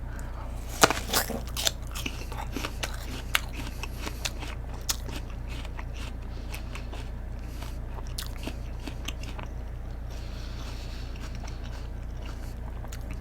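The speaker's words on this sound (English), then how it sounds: "I'll go for at least one bite" Biting into an old, wrinkly, not-fresh apple, with a few crisp crunches early on followed by quieter chewing over a steady low background hum.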